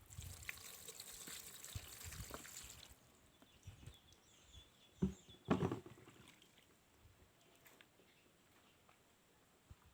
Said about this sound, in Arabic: نضيف هادشي ديال الماء اللي بقى لي مع الملحه والحامض.